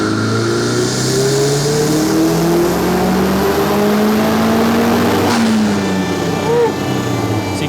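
Turbocharged car engine on a dyno with boost raised from 16 to about 18 psi, revving steadily and loudly through its range with rising and falling tones, close and continuous, with faint voices beneath.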